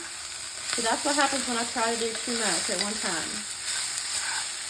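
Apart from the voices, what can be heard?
onions sizzling and burning in pan for potato soup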